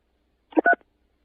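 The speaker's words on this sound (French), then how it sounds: "Pour changer la couleur de votre téléphone, appuyez sur la touche 3." Two quick telephone keypad tones from keys being pressed, short and distinct, then silence, with no talking.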